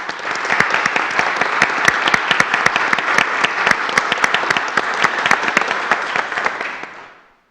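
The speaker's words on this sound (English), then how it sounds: "if you would please give them a round of applause" Audience applause at a city commission meeting, a full room clapping steadily for several seconds before fading out at the end.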